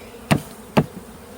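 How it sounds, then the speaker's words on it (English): Two brief dull knocks, evenly spaced, as bees are knocked off a hive frame, rising over a steady low buzz of bees. "I'll just knock these bees off here."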